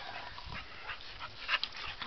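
Dogs give short, close whimpers and high yips in a brief, muffled burst of restless canine noise, with no human talk.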